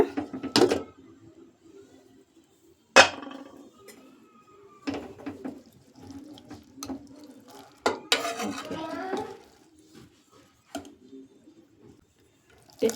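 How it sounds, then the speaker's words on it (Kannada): A cooled pressure cooker holding lentils and vegetables is opened, giving sharp metallic clanks of the lid and handle at intervals between quieter handling noises, with brief talk heard in the pauses. "ಕುಕ್ಕರ್ ತಣ್ಣಗಾಗಿದೆ ಇವಾಗ ಓಪನ್ ಮಾಡಿ ನೋಡೋಣ"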